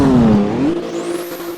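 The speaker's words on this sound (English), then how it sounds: "Yeah, that definitely sounds like a M4." A BMW M4 GT3 in a Roblox racing game revs its engine loudly and close. The pitch dips, then climbs and holds steady in one short continuous pull, with no voices.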